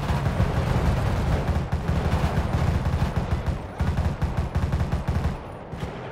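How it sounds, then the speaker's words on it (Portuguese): Sustained automatic machine gun fire in the GTA V video game, loud dense rattling bursts nearly continuous, then tapering into separated shots near the end, no voices. "agora sim eu consigo uma metralhadora boa"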